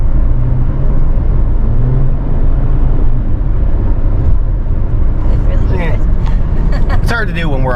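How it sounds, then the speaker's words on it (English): A 2017 Jeep Renegade's exhaust rumbles steadily and loudly under hard acceleration on the road, a dense low drone filling the cabin, with faint voice-like sounds creeping in near the end. "It's a nice clean exhaust sound."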